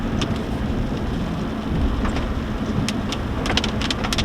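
A storm with steady rain pattering on surfaces and a low rumble of thunder underneath, close and fairly loud, with scattered sharp drops near the end and no talk.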